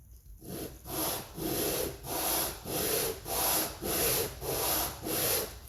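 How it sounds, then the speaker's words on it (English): Steady back-and-forth strokes of sandpaper lightly sanding glued wood on a police box build, about seven even passes in a regular rhythm, close and clear with no talking. "do a little bit of light sanding."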